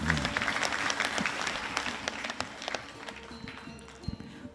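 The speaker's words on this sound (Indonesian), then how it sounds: "Tepuk tangan juga walaupun kecil." Audience applause at a closing ceremony for Bali Language Month in Bali, a sustained wash of many hands clapping at steady volume that tapers off toward the end.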